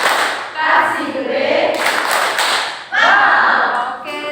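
Rhythmic hand clapping by a class group in a classroom chant, a few loud slaps interleaved with voices calling out, close and lively.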